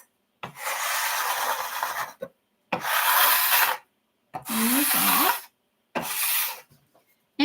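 A mini griddle is scraped clean in four long, loud rasping strokes close by, each lasting about a second or more, with short silent pauses between them.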